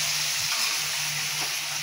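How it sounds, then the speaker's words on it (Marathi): Fenugreek leaves dropped into hot tempering oil for a vegetable dish give a steady, close sizzling hiss that holds evenly throughout, with no talk over it. "भाजीला फोडणी द्यायचा।"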